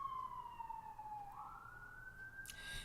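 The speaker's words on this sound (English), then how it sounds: "You hear those sirens?" A distant siren wails with a slowly falling pitch, then shifts tone, heard faintly over low traffic rumble.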